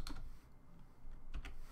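Rust code is typed on a computer keyboard: a few soft, close keystrokes at the start, a short pause, then another quick pair of taps.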